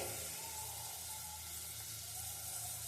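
Chopped vegetables with tomato sautéing in a pan on a stove turned to low, giving a soft continuous sizzle and faint frying hiss, quiet and steady without talk.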